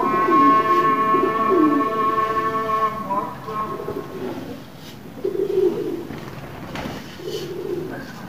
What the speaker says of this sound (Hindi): ये नए कबूतर भी बैठे हुए हैं। दाना डाल रहे हैं